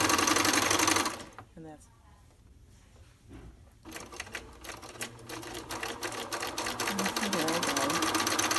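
A sewing machine stitches ribbon quilt block pieces together in fast, even runs of mechanical clatter. It stops for a few seconds while someone speaks briefly, then starts again and runs steadily.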